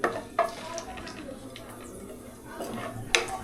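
Gravy mixture frying and being stirred in oil in a kadhai, a low steady sizzle with a few sharp scraping stirs, close by with people talking over it.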